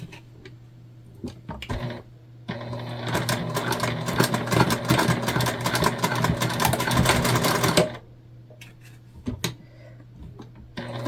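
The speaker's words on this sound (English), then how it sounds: "we're just going to stitch it on to our webbing" A sewing machine sews a fabric tab onto tote bag webbing in one sustained run of about five seconds, with quieter handling clicks before and after it.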